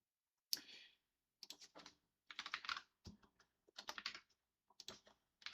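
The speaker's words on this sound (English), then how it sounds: "going to type in my details" Computer keyboard typing, close and clear, in short bursts of rapid keystrokes separated by brief pauses, with no talking.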